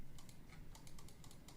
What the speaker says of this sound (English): I need to stop typing in chat.